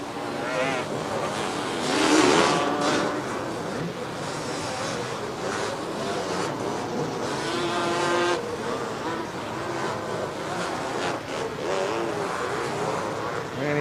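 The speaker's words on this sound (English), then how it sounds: "these buggies aren't the easiest craft in the world to ride" Racing buggies roar across the sand at the 1989 Veronica Beach Race, engines droning and surging continuously with a louder swell early on, under a commentator's voice.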